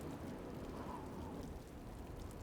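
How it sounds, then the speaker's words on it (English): Steady rain from the video game Witch on the Holy Night, heard as a soft, even hiss with a faint low rumble underneath, unbroken throughout. "The chilly November air filled the room as the soft sounds of the rain doubled in volume."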